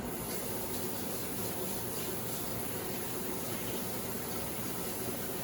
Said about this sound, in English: Now you're gonna rinse your hands